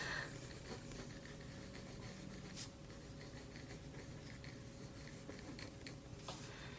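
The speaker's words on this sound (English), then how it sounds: "Love the sound, love how tactile it is while you're writing." 2B mechanical pencil writing on paper, close, faint scratchy strokes and taps in a quick irregular rhythm, no voice.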